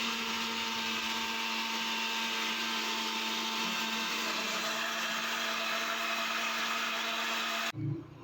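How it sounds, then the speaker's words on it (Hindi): An electric blender whirs continuously, churning malai cream with water into desi butter, a steady loud motor drone that cuts off abruptly near the end, with no talking. "मैं इसको तब तक ब्लेंड करूँगी जब तक जो है इसके ऊपर मक्खन ना आ जाए"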